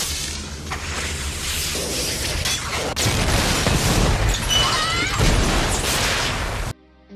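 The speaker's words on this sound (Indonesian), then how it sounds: "Mereka tidak bisa keluar dari sana dan tembakan rudal kembali datang." Missile strike explosions in The Transporter, a loud sustained barrage of booms and crashing blasts with whooshing debris that swells louder midway, then cuts off abruptly near the end.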